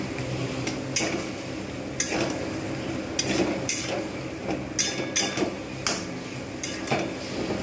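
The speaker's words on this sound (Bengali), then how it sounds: "একদম ভালোভাবে মশলাগুলো কষা হবে আমাকে কিন্তু বেশ কিছুক্ষণ এইভাবে কষতে হবে" Spices being sautéed in oil for a Bengali bhetki fish bone curry, with repeated scraping and clinking stir strokes of a utensil against the pan over a low steady sizzle, fairly close.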